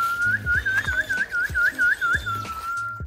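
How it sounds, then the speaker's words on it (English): A person whistles repeated warbling calls to summon Seychelles magpie robins on a small conservation island in the Seychelles, a clear rhythmic series of rising-falling notes over about three seconds, close and loud, with faint thumps and outdoor background underneath. "has whistled to call the smartest bird species on the island"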